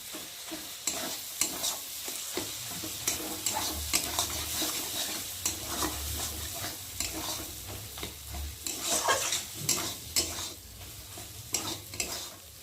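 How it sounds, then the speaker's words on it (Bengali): A spatula repeatedly scrapes and stirs Maggi spice masala in a hot frying pan while making chowmein, producing rhythmic close scraping strokes over a soft sizzle, with no speech. "মশলাটা না জমে গেছে, দিয়ে একটু ভালো করে নেড়ে দেবো।"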